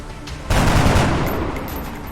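Sustained burst of rapid gunfire from the XCOM Long War video game, kicking in abruptly after a quiet start and holding loud and dense to the end with no speech.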